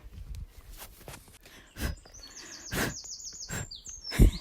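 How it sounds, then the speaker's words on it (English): Birdsong in a summer woodland: several bright chirps and short whistled phrases, some close and some farther off, with a few soft footsteps and rustles in between. "And we have more birdsong."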